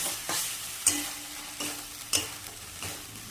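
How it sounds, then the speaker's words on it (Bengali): Prawns sizzle in hot oil with spice paste while a spoon stirs them in short scraping strokes, several distinct scrapes over a soft, steady frying hiss, close and fairly quiet with no talking. "এই চিংড়ি মাছটাও এর মধ্যে দিয়ে দেবো তাহলে কি হবে একসঙ্গে মশলাটাও কষানো হবে"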